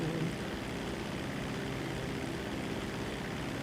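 Steady propeller drone of a cargo plane's engine in flight in GTA 5 Online, a continuous loud hum with no talk over it.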